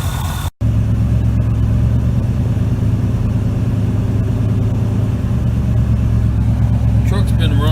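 A 454 V8 in an R35 dually truck runs at high idle while overheating, a loud, steady, close engine drone with a constant low hum, briefly cut out near the start, and faint high squeaks near the end.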